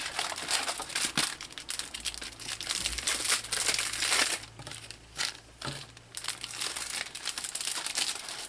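A parcel package is opened and its wrapping crinkled, with busy, close plastic rustling and crackling that continues throughout in uneven bursts, loud and without talk.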